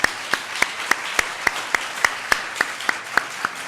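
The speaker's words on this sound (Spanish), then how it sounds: "y también para Laurence un aplauso en agradecimiento" Audience applause at an open lecture honoring Roberto Bolaño: a steady wash of clapping with one sharp, evenly spaced clap standing out about three times a second.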